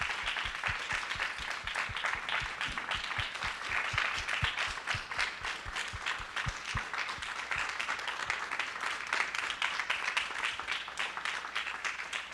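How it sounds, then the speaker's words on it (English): A large audience claps in a sustained, even round of applause, dense and continuous throughout, with a few louder individual claps standing out near the front. "please join me in a round of applause for these incredible people"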